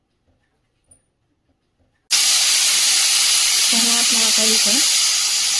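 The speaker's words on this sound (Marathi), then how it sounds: "आता आपल्याला कुकर असा बंद करून 3 ते 4 शिट्ट्या घेऊन घ्यायच्या आहेत।" A pressure cooker holding unsoaked sabudana bursts into a loud, continuous steam-release hiss after a brief spoken phrase over near-silence, the whistle's rush carrying on steadily to the end.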